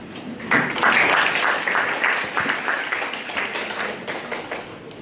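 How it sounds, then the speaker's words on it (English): Applause from a conference audience after a presentation: sustained, dense clapping filling the room, loud at first and gradually thinning, with no talk over it. "Another round of applause for the two gentlemen"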